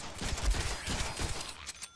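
Rapid gunfire from the Deadpool video game, a dense burst of shots crackling close and loud for two seconds with no talk over it.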